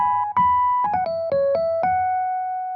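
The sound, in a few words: two-beat keyboard solo pickup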